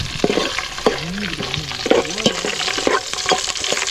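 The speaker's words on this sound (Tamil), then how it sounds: "பச்சை மிளகாய் போட்டு ஒரு கிண்டு" Green chilies sizzle in hot oil in a frying pan for village-style pepper chicken. A spoon scrapes and stirs them in steady, close strokes over a constant frying hiss.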